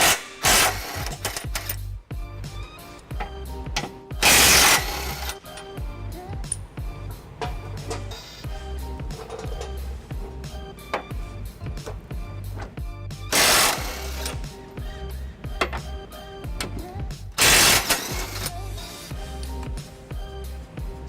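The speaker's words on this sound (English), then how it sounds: "I've got a 21mm socket here to undo these bolts." A 21mm socket on a power tool undoes the mounting bolts of a car's trailer hitch, giving loud bursts of rattling, hammering mechanical noise between quieter stretches of rapid clatter, close by with no talk.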